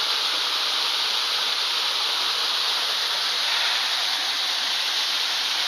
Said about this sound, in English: I'll get the waterfall in the background.